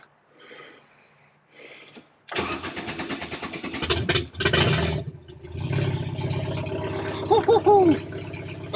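A 1994 VW Golf engine cranks briefly, then catches and runs up loudly, settling into a rough idle with uneven revs, close by, with a few brief voices.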